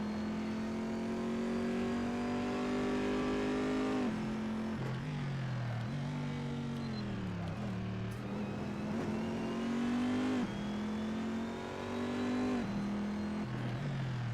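A race car in the Assetto Corsa game drives continuously with a loud, sustained engine drone that rises and falls through repeated revs and gear shifts, with no talk.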